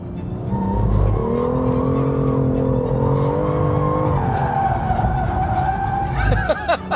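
A BMW M2 F87 drifting through a corner, engine droning at high revs while the tires squeal and skid in a long, loud continuous wail, close by.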